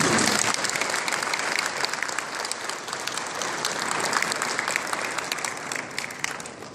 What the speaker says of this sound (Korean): 큰 감사와 경의의 박수 부탁드립니다.